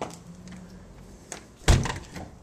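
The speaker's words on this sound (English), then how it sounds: "Close the door." An apartment door swung shut during a walkthrough of a cleaned rental unit, landing as a single solid thunk partway through, close by over faint room noise.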